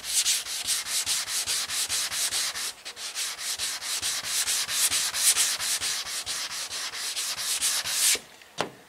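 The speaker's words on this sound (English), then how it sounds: "I got some 320 on the block. We're just gonna wet sand this." A sanding block with 320 grit paper wet sanding the body of a 1966 car, a close rhythmic rasping in quick back-and-forth strokes, steady and loud for about eight seconds, then stopping with a final stroke.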